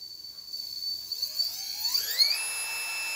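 A high electric whine rises steadily in pitch as a small RC crawler brushless outrunner motor spins up, settling into a sustained shrill hum.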